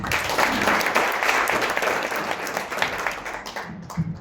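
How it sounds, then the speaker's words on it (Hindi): Loud, dense applause from an audience for a performer at a Chhattisgarhi stage show, a steady wash of many hands clapping that holds strong throughout and tapers only slightly near the end. "साहू जी के लिए जोरदार ताली।"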